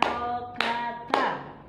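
Three hand claps spaced about half a second apart during a Qur'an reading lesson for first-grade primary pupils, crisp and close, with a sustained tone ringing between them.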